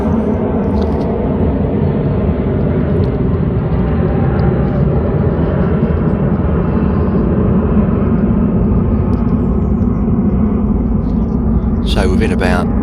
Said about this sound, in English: Just let that plane go past.